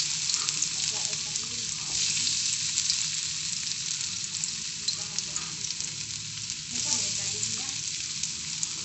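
Potatoes frying for corned beef hiss and sizzle steadily in a hot pan, a constant close crackle with faint stirring scrapes and no voices.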